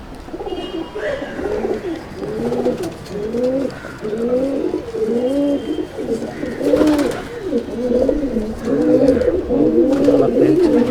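Young Kaldama pigeons coo repeatedly in a loft, a steady run of soft, rolling calls close by that overlap and continue throughout, with faint chirps in the background.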